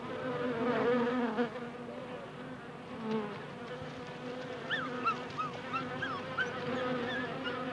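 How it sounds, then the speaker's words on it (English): A swarm of bees hums as a faint, continuous buzzing drone in the African wild, with a few high bird-like calls and honks rising briefly over it. "The arrival of a swarm of bees makes common victims of all the dogs of the Genghis pack."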